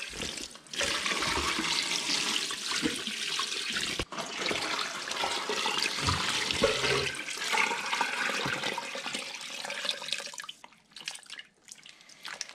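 Lukewarm water pours steadily into a container for sausage making, a continuous splashing gush that runs for about ten seconds and then tapers off, with no talking.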